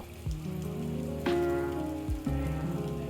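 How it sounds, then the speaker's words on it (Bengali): Artificial rain pours as water streams onto the tin roof of a restaurant during a severe heatwave, a steady close patter and drumming on metal with a few louder thuds, no voices. "টিনের চালের উপর তীব্র তাপপ্রবাহের মধ্যেও বৃষ্টির মতো বইছে জলধারা"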